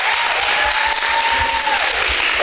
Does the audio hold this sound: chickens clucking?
no